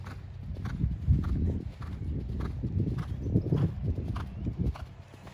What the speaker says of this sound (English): So there, Keely brought him back to trot, and then he just sort of sped off a little bit